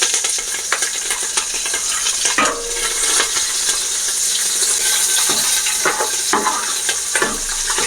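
Whole spices and green chillies fry in oil for chicken pulao, a close, loud crackling sizzle with intermittent sharp clinks and stirring knocks, no speech over it.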